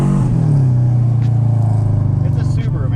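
A Subaru Legacy GT with all-wheel drive drives through snow, its engine a loud, steady low drone heard from inside the car while people talk over it.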